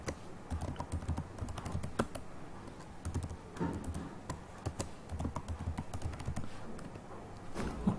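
Keys clatter on a computer keyboard as a password is typed, a quick irregular run of close, crisp taps with brief pauses between bursts.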